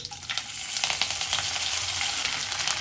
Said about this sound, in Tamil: எடுத்து வச்சிருக்கிற 3 பச்சை மிளகாய் போட்டுக்கலாம்